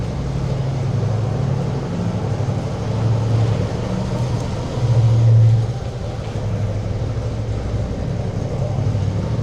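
Road traffic on Needles Highway near Mt. Rushmore, heard as a steady vehicle engine drone and road rumble from close by, swelling briefly midway, with a voice speaking at times.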